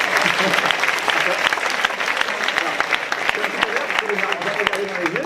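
Audience at a live stage hypnosis show applauding a volunteer, dense continuous clapping that fills the room while a voice talks over it toward the end.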